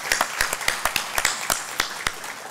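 Scattered, uneven clapping from an audience at a university ceremony, with distinct individual claps spaced irregularly rather than a dense ovation, fairly near and moderately loud.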